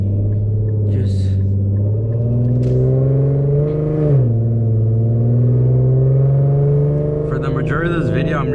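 Inside an Infiniti Q50S while driving, a steady low engine drone hums throughout with a brief dip in pitch midway, plus faint scattered cabin noises.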